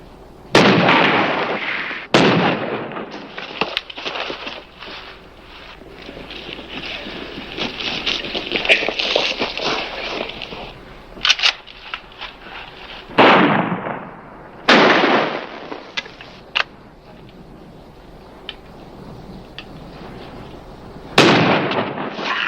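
Shotgun gunfire in a western TV show, several loud, sharp blasts spaced irregularly, each with a rumbling tail, between stretches of dramatic background sound.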